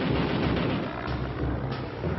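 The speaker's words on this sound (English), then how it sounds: "It is armed with 4 M3 20mm cannons." An A-1 Skyraider's four M3 20mm cannons fire in a Vietnam War air combat scene, a loud, continuous rumbling roar of rapid shots blending into one dense burst with no voices.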